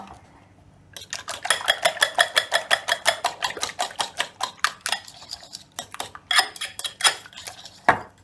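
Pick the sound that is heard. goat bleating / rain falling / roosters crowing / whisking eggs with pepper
whisking eggs with pepper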